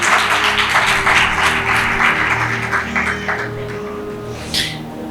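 Congregation applause at a memorial service: moderate, steady clapping in a hall over a sustained low organ-like drone, gradually tapering off with a brief louder flourish near the end.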